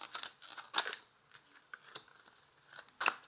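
A tarot card is drawn from the deck during a weekly Taurus reading, giving a few short, close papery slides and snaps with quiet gaps between them and no talk.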